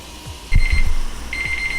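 Kitchen timer going off while sausage patties cook: two short, loud electronic beeping bursts over faint sizzling background.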